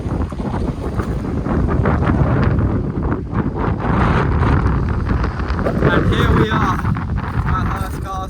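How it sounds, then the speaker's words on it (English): Strong wind roars and buffets the microphone continuously, with heavy low rumble and gusts throughout; a voice speaks faintly beneath it. "Let's just get behind a rock because it's so windy."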